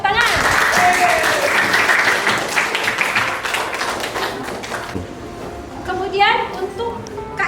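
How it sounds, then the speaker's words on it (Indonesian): Applause breaks out in a classroom for a student's answer during a lesson on review texts, a dense clatter of many hands under a teacher's voice, fading by the middle before a few scattered claps return near the end. "Ya, benar sekali, tepuk tangan"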